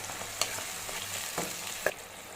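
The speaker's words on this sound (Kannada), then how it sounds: "ಈರುಳ್ಳಿ ಹಸಿ ಸ್ಮೆಲ್ಲೆಲ್ಲ ಹೋಗೋವರೆಗೂ ಸ್ವಲ್ಪ ಚೆನ್ನಾಗಿ ಫ್ರೈ ಆಗೋದು ಬಿಡೋಣ" Onions sizzle steadily in a pan being cooked for chana masala, a constant hiss with occasional sharp pops and light scraping from stirring, no voices.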